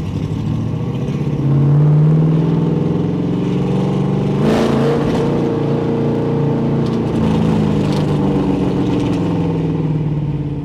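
A 1963 Corvette Split Window Sting Ray engine revs hard and pulls under acceleration, a loud, close, steady roar that swells into a brief burst of higher revs midway through.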